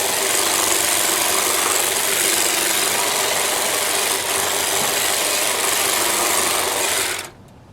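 DOVAMAN 7.2 volt cordless grass shear running handheld, a steady buzzing motor whir held close for about seven seconds before cutting off abruptly.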